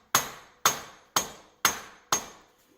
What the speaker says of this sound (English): I take my rubber mallet and just tap it a couple of times